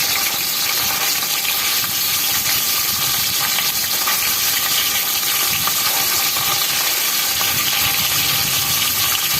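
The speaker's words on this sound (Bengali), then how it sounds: "আমি কড়াইতে তেল দিয়ে দিয়েছি এবং মাছগুলি আমি ভেজে নেব" Fish frying in hot oil in a kadai gives a loud, steady sizzle and crackling hiss that runs unbroken and close throughout, with no voices.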